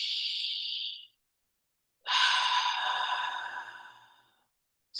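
Two deep breaths during a guided meditation: a long airy exhale, a pause of silence, then a fuller, louder breath that fades slowly, close and unaccompanied by speech.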